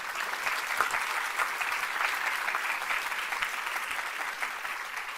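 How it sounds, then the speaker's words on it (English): Steady applause fills an auditorium at a sustainability awards evening, the audience clapping for one another in an even, unbroken patter with no voices over it. "So let's give a big round of applause to each other."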